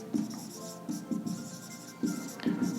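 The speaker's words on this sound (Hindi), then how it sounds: "मैं लिखता हूं यहाँ पे" Chalk or marker scratching across a board during a class 9 maths lesson, in short strokes and bursts at moderate closeness, with a faint murmur of a voice in places.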